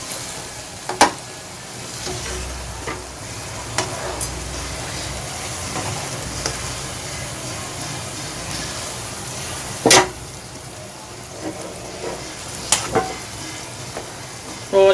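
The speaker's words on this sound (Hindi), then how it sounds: "जी तो इनको मिक्स कर लेंगे आराम से हल्के हाथ से।" Zarda, sweet rice, being gently mixed in a pot, with soft scraping and turning strokes under a continuous light sizzle and a few louder knocks of the spoon against the pot.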